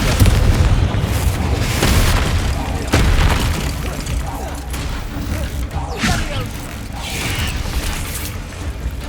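Confringo spell cast in Hogwarts Legacy, a fiery magical blast with booming impacts and mechanical clanks amid layered game action, loud and continuous, with a voice speaking over it.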